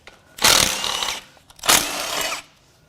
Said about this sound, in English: Now I've got a 10 millimeter. I'm going to remove a whole bunch of bolts here.